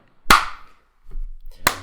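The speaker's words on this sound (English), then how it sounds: "Clap." Two sharp hand claps, close and loud, separated by just over a second of near silence with a faint low rumble between them.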